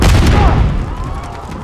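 A grenade goes off in Call of Duty: Modern Warfare III, a loud, close, deep boom that rumbles and fades over a second or so.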